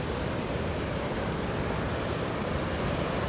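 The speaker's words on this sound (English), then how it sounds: "look at these waves still coming in" Ocean surf rolls steadily onto the shore on the Galician coast at Baiona at dusk, a dense continuous wash of breaking waves with a light breeze across the microphone and no voices.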